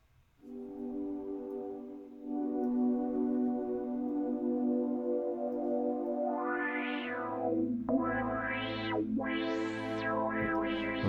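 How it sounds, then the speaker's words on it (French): A sustained synth tone runs through Logic's autofilter effect, its bright filter sweeping up and down in repeated swooping arcs over a low droning layer. "Si je prends le autofilter, par exemple, je vais avoir un effet comme ça."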